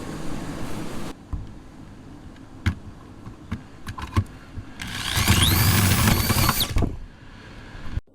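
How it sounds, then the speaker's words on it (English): A hole saw bores through plastic with a loud, whining grind lasting about two seconds, after scattered knocks and handling clatter. "take the hole saw and get to work"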